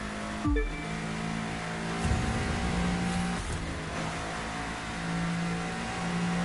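Car engine in The Crew 2 video game, a steady driving drone with gear shifts and brief rises in revs as the car cruises at speed, no talking.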